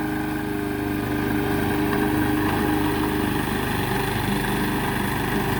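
Lawnmower engine running steadily and loudly close by just after being started, a constant droning putter at an even pitch that stops abruptly at the end.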